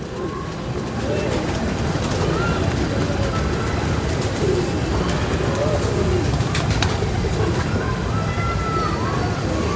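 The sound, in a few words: Ferozpuri pigeons being released, cooing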